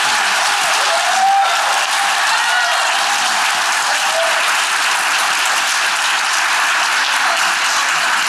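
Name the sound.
audience applause for mayoral candidates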